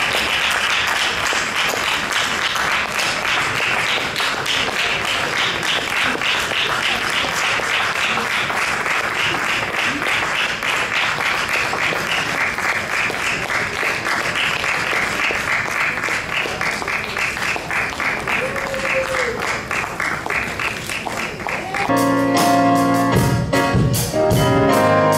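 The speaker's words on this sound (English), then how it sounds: "Let's clap again, come on" Sustained, dense applause from a church congregation at a gospel consecration service, loud and steady throughout, with a brief musical tone and a burst of sharper sounds near the end.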